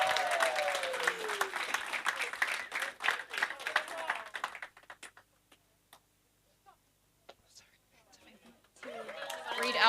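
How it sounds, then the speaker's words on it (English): Audience applause and chatter for the runners-up team from Avondale College at a 2024 Whau schools debate, loud dense clapping for about four seconds that dies away to near silence before clapping swells again near the end. "Give a round of applause for Avondale College"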